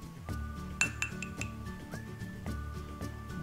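A spoon clinks against a coffee cup while stirring hot milk and creamy whipped coffee, a few bright taps repeating over a low steady background hum.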